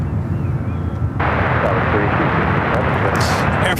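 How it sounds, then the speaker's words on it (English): An Air France Boeing 777-300ER at San Francisco airport spools up for departure to Paris, a loud jet roar that swells abruptly and stays strong, with talk heard over it. "Air France flight"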